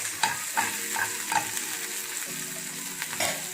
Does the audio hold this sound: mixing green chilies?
yes